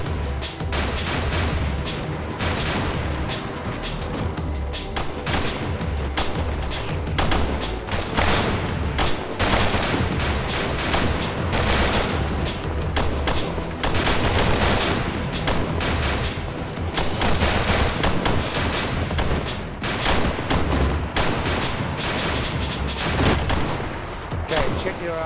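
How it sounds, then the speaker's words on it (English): Gunfire during shooting training: dense, loud volleys of shots crack and rattle almost without pause, overlapping in rapid bursts with a heavy low rumble underneath and voices now and then. "Fire a few rounds and move again."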